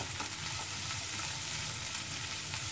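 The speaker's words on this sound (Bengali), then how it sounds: "পেঁয়াজটা একটু ভাজা হোক" Onion sizzling in a hot pan for Bengali bata machher jhal, a continuous crackling fry with faint stirring, even and close throughout, with no talk.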